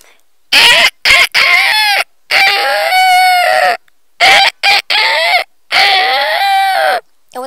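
A human voice mimics a rooster crowing in several loud, drawn-out calls separated by brief pauses, each rising and falling in pitch, close and clear.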